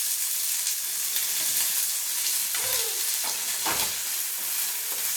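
Shallots and onions sizzle steadily in a hot pan as they sauté for a Kerala-style Malabar chicken fry, with a constant frying hiss and a couple of soft stirring scrapes.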